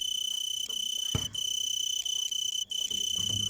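An insect chirps in close, bright repeated bursts with short pauses, alone in a quiet outdoor setting.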